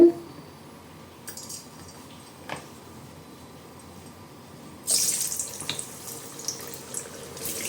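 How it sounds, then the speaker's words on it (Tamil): Potato and onion pieces dropped little by little into heated oil for potato rice, with a quiet stretch before a sudden, steady bubbling hiss rises about two-thirds of the way through. "இப்போ கொஞ்சம் கொஞ்சமாக போட்டு பொறிச்சிடலாம் எண்ணெயில்"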